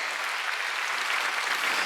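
Steady, dense applause from a church congregation during a Wednesday worship service, continuous and fairly loud throughout.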